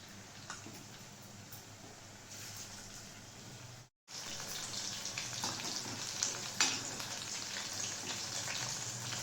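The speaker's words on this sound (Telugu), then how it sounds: "కాకపోతే ఇప్పుడు దీన్ని పకోడీలు ఆయిల్ పెట్టుకుని పకోడీ వేసుకోవాలి" Chicken pakoda deep-frying in a kadai of oil over a low flame, a steady dense sizzle and crackle throughout, broken by a brief silent gap midway, with a few louder pops.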